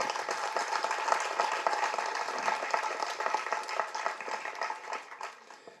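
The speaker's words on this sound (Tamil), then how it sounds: "ஸோ இந்த அரங்கமே அதிர மாதிரி அப்பாவுக்கு பலத்த கரகோஷம் கொடுங்க." Sustained crowd applause fills a concert hall at a Tamil music event honouring a film composer, dense and steady throughout before thinning slightly near the end.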